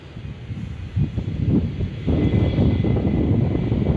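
A jet airliner passing near Fort Lauderdale-Hollywood International Airport runway 10R in Dania gives a broad engine roar that builds and stays loud, with some wind rustle and no talk.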